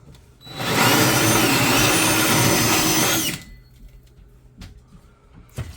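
A power drill bores through wood in one loud, sustained burst of about three seconds, then stops abruptly, leaving quiet room noise with a few faint knocks.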